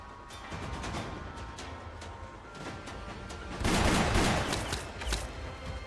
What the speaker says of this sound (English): And then they started blasting.